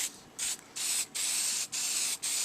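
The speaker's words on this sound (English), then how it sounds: "So I'm just going to spray the edges in the back, then I'll turn it over and spray the surface." Finish is sprayed from a can onto a wooden desk sign in five short bursts of hissing, each lasting a fraction of a second to about half a second, with brief pauses between them, close and clear.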